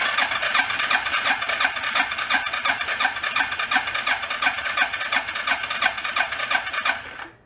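A homemade rat rod ATV engine runs close by with a steady, rapid chugging pulse and no talk, then cuts off abruptly at the end.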